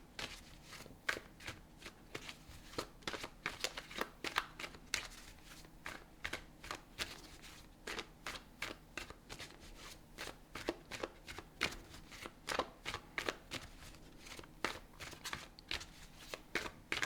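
Tarot cards shuffled by hand at close range, a long run of quick, crisp riffling bursts at a soft level.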